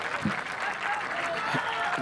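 A crowd at a golf practice range cheers and applauds steadily as Viktor Hovland arrives, with a continuous roar of clapping and voices. A commentator talks over it.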